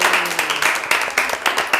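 Students in a classroom group guidance session give a short burst of clapping, a few hands striking in a quick uneven rhythm, close by and fairly loud.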